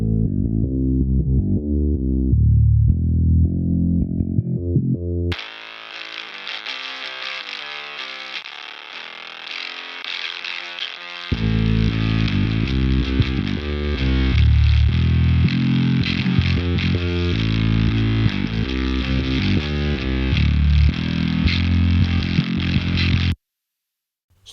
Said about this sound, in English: for that primal ferocity, I decided to go with this fuzz pedal with the settings you see here.